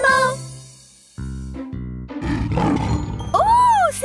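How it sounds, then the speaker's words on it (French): A cartoon lion in a children's animal-fair show roars loudly and alone after a musical jingle, the roar rising and falling for about a second before fading out. "C'est un lion."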